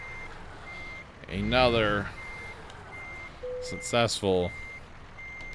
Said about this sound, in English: Out of reverse, please. Stop the beeping.